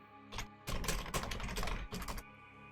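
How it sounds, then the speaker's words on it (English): Fingers type on a computer keyboard in quick irregular bursts of clicking keystrokes, close and fairly quiet, with short pauses between flurries and no talking. "Here comes the typing."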